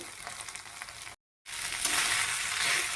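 Sabudana khichdi with curd sizzles and crackles as it is sautéed and stirred in a hot pan, a steady close frying hiss broken by a brief silent gap before resuming louder.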